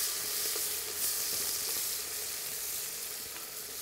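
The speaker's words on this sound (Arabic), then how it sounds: "هوني لي دي فريمون باش يذوب بالطبيعة البصل مع اللحم" Chopped onion and lamb meat fry together in a pan, giving a bright, continuous sizzle with faint occasional pops, close and steady, and no one speaking.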